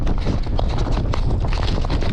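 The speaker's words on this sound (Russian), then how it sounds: "О, ветер, ветер." Strong wind roars and buffets against the microphone in a loud, continuous rush with no voices, during ice fishing on the frozen Pechora River in bad weather.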